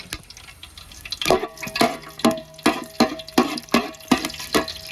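Cinnamon, cloves, pepper and cardamom stirred in hot oil for chicken kabsa make a close sizzle broken by regular scraping strokes, each a sharp rhythmic swish repeated about every half second.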